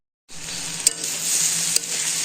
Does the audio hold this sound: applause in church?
no